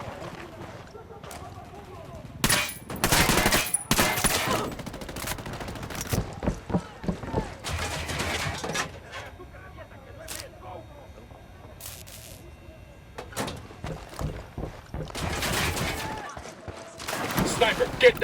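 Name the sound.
gunfire in the video game Ghost Recon Wildlands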